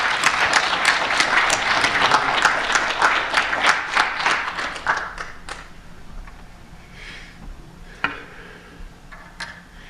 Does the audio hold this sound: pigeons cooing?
no